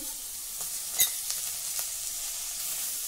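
Ginger slices and green chili frying in a little oil give a soft, steady sizzle throughout, with a brief louder crackle near the one-second mark and a few faint stirring ticks.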